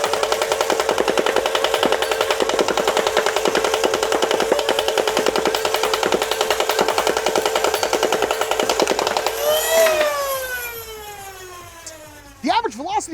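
An Adventure Force Boxer Pro foam dart blaster running on a 3S 11.1 volt battery fires in a fast, loud, rattling burst for about nine seconds, then winds down with whirring motor spin-down sweeps.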